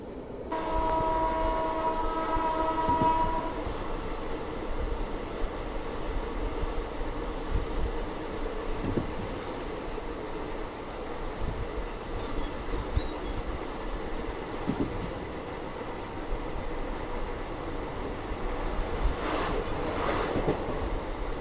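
ICF YUVA Express train running, heard from inside a 2AC coach: a steady loud rumble and rhythmic rattle of wheels on track, with a distant horn near the start and no talking.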